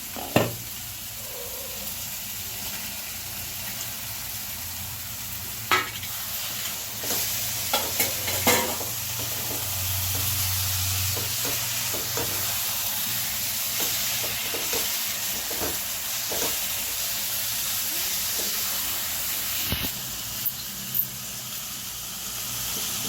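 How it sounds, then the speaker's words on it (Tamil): Mutton liver sizzles and fries in a pan with softened tomatoes, a steady hiss broken by occasional scrapes and clinks of a spoon stirring. "தக்காளி வதங்கிடுச்சு போய் ஈரல் போட்டுற வேண்டியதுதான்"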